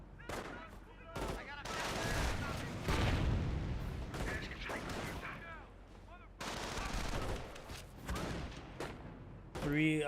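A mortar shell lands amid gunfire and explosions in a Company of Heroes 1 battle, with repeated sharp bursts and booms and a commentator talking over the action.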